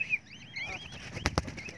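A pet parakeet on its first free flight gives a few brief, soft wing flaps, with faint bird chirps in the background and no talking.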